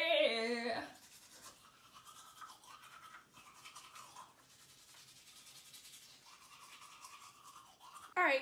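Teeth scrubbed with a toothbrush, a close, steady brisk bristle scraping that continues for several seconds between louder bursts of other sound at the start and end.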